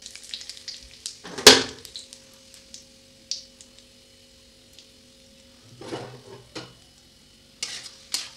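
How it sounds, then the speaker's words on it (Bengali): Kasuri methi, bay leaves and dried red chilies dropped into hot oil, with a sharp burst of sizzling and a few clinks and stirring scrapes over an otherwise quiet kitchen, heard close up. "তেলটা গরম হয়ে গেছে, এবার এর মধ্যে কাস্তুরি মেথি, তেজপাতা, শুকনো লঙ্কা, আর একটু রাঁধুনি দিয়ে দেবো"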